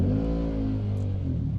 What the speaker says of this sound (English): There goes a motorbike.